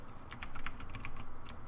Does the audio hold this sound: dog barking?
no